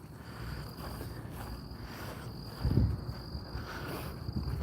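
Crickets chirp steadily in the background, a continuous high trilling that pulses faintly, with a brief low thump partway through and no talking.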